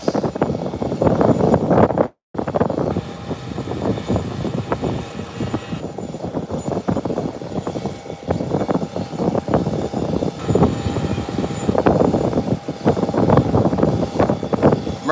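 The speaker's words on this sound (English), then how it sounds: "Here is a takeoff heading down to make its 180 degree, to make its takeoff before the American airline lands." A jet airliner rolls for takeoff at Howard Hamilton International Airport, a loud, sustained engine roar that swells and holds steady with a brief cutout early on.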